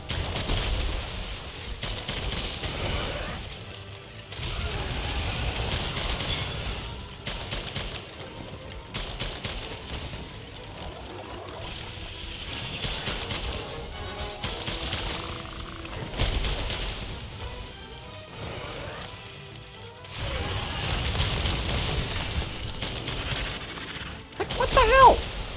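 Bowgun fire from Monster Hunter World: Iceborne strikes the monster Namielle in repeated bursts of loud shots and impacts, set against continuous battle noise throughout.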